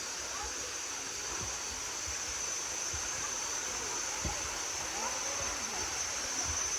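Water flows steadily down Bua Tong sticky waterfall near Chiang Mai, an even, continuous rushing hiss with faint low thumps, heard close and alone.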